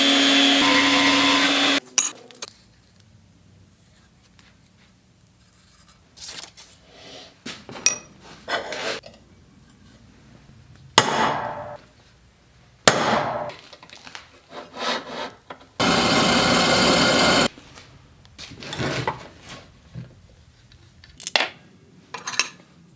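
A power tool cuts out a rough piece for a Honda Grom motorcycle front brake mount mock-up in two steady, loud bursts, one at the start and one later, with quiet handling and scraping noises between them.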